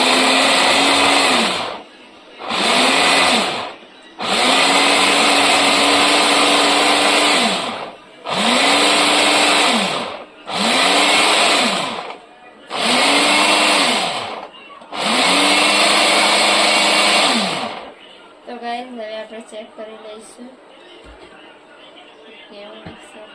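A kitchen mixer grinding ingredients with mint for pani puri runs in about seven loud, close bursts separated by short pauses, its motor whine holding steady during each run, before it stops and only quieter background sounds remain.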